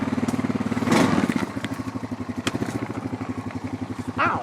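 Off-road vehicle engine running in two-wheel drive, a close, steady rumbling chug with a clattering pulse throughout, briefly swelling louder as the throttle rises.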